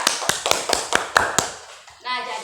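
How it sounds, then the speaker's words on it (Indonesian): Brief applause for a student in an elementary school classroom: a handful of sharp, evenly spaced hand claps over about a second and a half, then a voice begins speaking. "Tepuk tangan dulu untuk teman kita."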